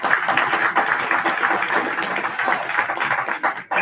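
Audience at a fall cadet pass-in-review ceremony claps, a dense, steady patter of applause sustained throughout, moderately near and without talk.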